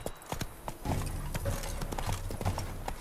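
A horse gallops in The Witcher 3: Blood and Wine, its quick rhythmic hoofbeats close and prominent, with a brief snort or whinny mixed in, and no talking.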